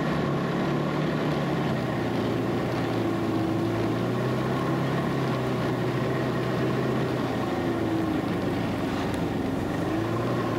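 A Ski-Doo snowmobile riding along a winter trail, its engine droning steadily and loudly throughout with a constant motor hum and no pauses.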